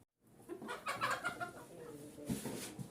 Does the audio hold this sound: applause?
no